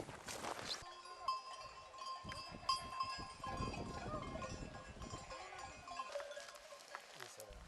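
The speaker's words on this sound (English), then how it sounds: "The shepherd shows up with a flock of sheep before I know it." Flock of sheep and goats with a shepherd on a wide open meadow in Turkey; faint scattered bleats and clinking bells over a soft outdoor wash, with nothing close or loud.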